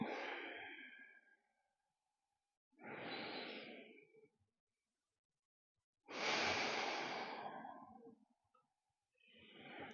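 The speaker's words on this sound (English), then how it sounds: "I'm breathing here." Slow, deep breaths during a seated chair yoga practice for the lower back, each inhale and exhale a long airy rush separated by quiet pauses, close and clear with no talking.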